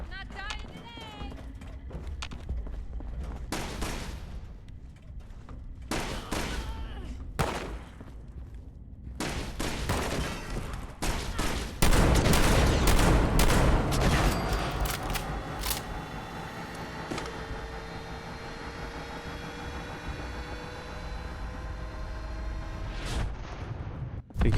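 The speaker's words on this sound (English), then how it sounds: "Good to know there's turrets down there." Rapid bursts of turret gunfire ring out in Fallout 76, sharp repeated cracks clustering through the middle stretch over a steady game soundscape, with voices talking throughout.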